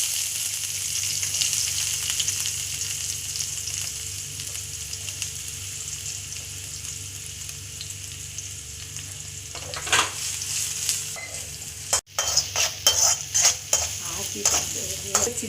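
Chopped onion frying in a pan for a cauliflower stuffed chapati dinner: steady loud sizzling throughout, with occasional scraping stirs and a cluster of spoon-against-pan clinks near the end.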